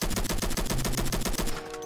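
AK rifle fire in the Roblox game Flag Wars rattles out as a rapid, continuous stream of loud evenly spaced shots, close and filling the scene before trailing off at the very end, with no voices over it.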